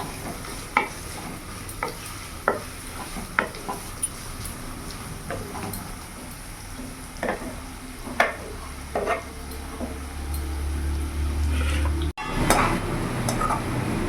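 Chicken pieces shallow frying in a pan of oil for chilli chicken, with a steady background sizzle broken by repeated sharp clinks and scrapes of a spatula stirring against the pan, and a louder hiss near the end.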